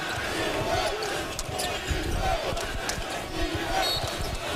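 Roughly 14,000 West Virginia fans at a college men's basketball game against Virginia, a dense roaring crowd reacting with sneaker squeaks and ball bounces under a commentator's voice.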